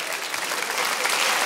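Audience at a French stand-up comedy show applauding, a dense, steady wash of many hands clapping at close range for the whole moment with no voices on top.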